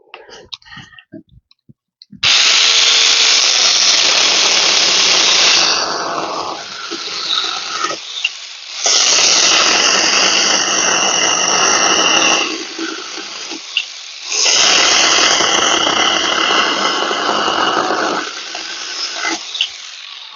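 Cordless mini saw bought from AliExpress cutting through a piece of wood about 4 cm thick, three loud sustained buzzing cuts separated by short pauses, close and alone.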